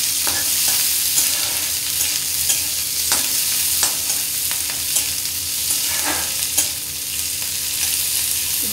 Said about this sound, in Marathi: आपण चिरून ठेवलेला कांदा व्यवस्थित परतून घेऊया